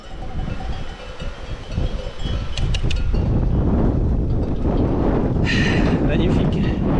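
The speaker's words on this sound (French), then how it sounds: "Et là, il y a du vent." Wind blowing across a mountain pass near a horse trough, a steady loud rushing roar with broadband gusts that swell stronger partway through and persist to the end.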